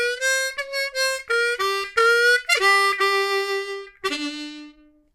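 Harmonica plays a blues turnaround line in C from a blues harmonica lesson: a run of short tongued notes followed by bent, sliding draw notes and a final held low note, clear and solo.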